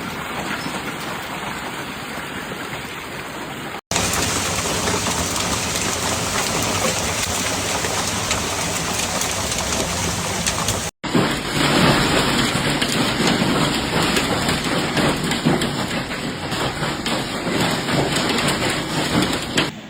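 Dense, steady downpour hisses loudly throughout with broadband roar and brief cuts during a severe hailstorm in Ariège, France; no clear thunder stands out.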